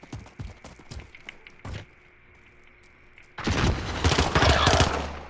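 Gunfire in Call of Duty Modern Warfare, with a few sharp pistol shots early on, then a loud, dense burst of overlapping shots and blasts in the final seconds.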